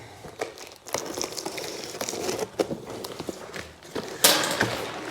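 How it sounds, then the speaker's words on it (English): Close crinkling and rustling of plastic and tape as a box holding a polymer back window for a Can-Am Defender is cut open and unpacked, with scattered snips and tearing, and a sharper crackle near the end. "Go ahead and cut the tape open here"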